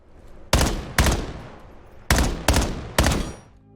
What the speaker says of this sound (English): you once again have to shoot the heads off all the mannequins on the map in under 2 minutes